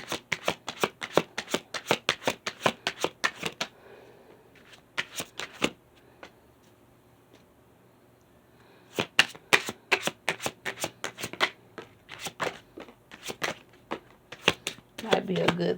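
A deck of oracle cards is shuffled close up in quick riffling bursts, with a quieter pause in the middle before the rapid flapping resumes, alone without talk.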